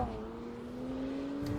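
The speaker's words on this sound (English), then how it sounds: "It's a great BMW straight 6 noise, and it's totally organic." A 2014 Alpina B3 Bi-Turbo (F30), a 410-horsepower saloon with a twin-turbo BMW straight-six, sends out a close, steady engine drone whose pitch climbs gently throughout, with no one talking.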